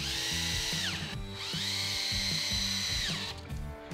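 Power drill driving screws into a pre-drilled 2x4 workbench leg: two whining bursts of the motor rising and winding down, with a short pause between, close and fairly loud.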